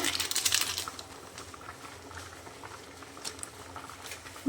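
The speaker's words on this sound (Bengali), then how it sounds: "মাংস টকবক করে ফুটছে হয়ে গেছে" Meat curry bubbling and boiling in a pot, close thick popping bubbles that are loudest at first and then settle into a softer steady blub.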